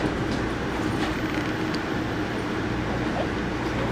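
Passing train on an Amtrak route, a loud steady rumble of rolling railcars with faint clickety-clack and occasional wheel squeal, filling the moment.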